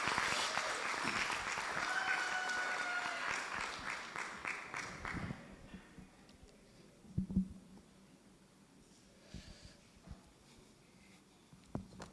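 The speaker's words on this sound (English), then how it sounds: "Big round of applause." A conference audience gives a round of applause, sustained clapping that gradually dies away after about five seconds, leaving sparse claps, knocks and faint room sounds.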